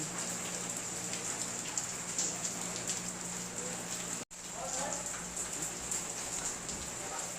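Steady rain patters down on a surface, a dense, even hiss with scattered drops, broken by a split-second gap midway.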